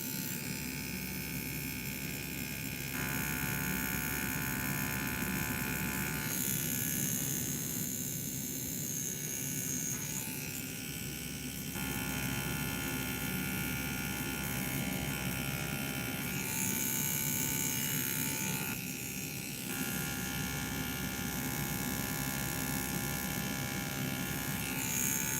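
Bronc X2 Neo tattoo machine buzzing steadily while lining during a tattoo practice session, a close, continuous electric whir that shifts slightly in pitch over about 25 seconds, with no talking.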